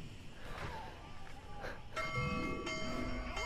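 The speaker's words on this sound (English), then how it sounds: "Rang the bell." A bell rings out in Assassin's Creed Unity, its sustained tones building and lingering after about two seconds over faint game ambience, with a voice briefly audible earlier.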